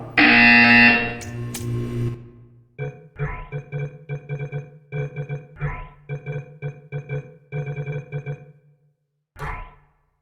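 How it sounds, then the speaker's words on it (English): In the video game Portal 2, a short loud tone is followed by a series of rhythmic pulsing buzzer bursts, then silence and one final burst, with no talking. "You will hear a buzzer."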